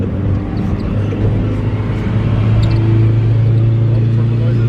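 A turbocharged 1995 Dodge Neon four-door with a built SOHC engine and a TD05 turbo at 13 psi makes a loud, steady engine rumble from inside the car while it drives, lasting the whole stretch without breaks.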